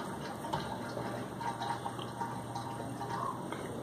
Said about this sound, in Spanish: las enjuagas por 2 o 3 pasadas de agua, las lavas muy bien